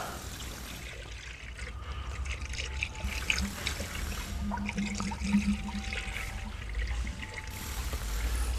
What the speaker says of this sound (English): I can hear the air bubbles.